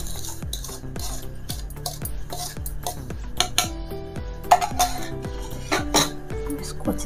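A spoon stirs a sweet mixture of fine biscuit powder in a bowl, with a regular clinking, scraping rhythm of repeated strokes against the bowl and occasional louder knocks.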